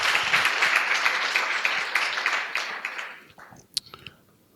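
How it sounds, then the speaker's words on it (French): Applause from an audience at an energy conference in Benin, fairly dense clapping that tapers and thins out toward the end, leaving a few scattered final claps. "Encore un banc d'applaudissements pour le présentateur."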